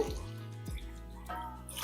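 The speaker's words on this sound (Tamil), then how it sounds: "இதில் மூன்றரை கப் அளவுக்கு தண்ணி ஊற்ற போகிறேன்" Water is poured into a pot of rice and moong dal for pongal, giving faint, brief splashes and drips up close.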